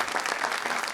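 A short, even burst of studio audience applause on a television comedy show, with many hands clapping together at moderate loudness for under a second.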